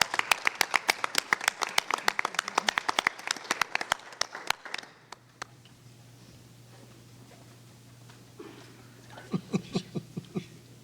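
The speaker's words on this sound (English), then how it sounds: "Join me in a round of applause for Mrs." A school board meeting audience gives a round of dense clapping for about five seconds. It then tapers into scattered claps and a quiet room hum, with a few more claps near the end.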